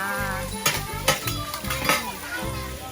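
Fried mussels (hoi tod) sizzle steadily in a hot pan while being stirred, with scraping and clinking of a utensil against the metal at an outdoor temple festival in NSW, Australia; continuous frying under intermittent sharp utensil strikes.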